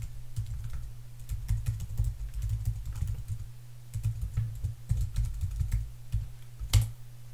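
Username and password typed on a computer keyboard: rapid, uneven runs of close, crisp key clicks with short pauses between bursts and one louder tap near the end.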